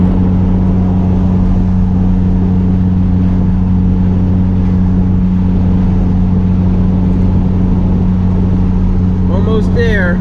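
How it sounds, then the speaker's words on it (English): DSM drag car driving on the road, a loud, steady engine drone with a strong low hum that holds throughout, close by from inside the car, and a brief higher whine near the end. "So I'm going to drive the car there."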